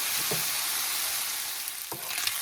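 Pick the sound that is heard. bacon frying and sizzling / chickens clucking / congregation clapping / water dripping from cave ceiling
bacon frying and sizzling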